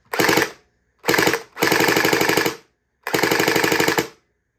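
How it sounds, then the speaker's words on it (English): Four rapid bursts of automatic fire from a Splatrball SRB800 Pyro toy blaster, close and loud, each a fast mechanical rattle separated by short pauses. "this will be the first shots with it, so you'll hear what it sounds like"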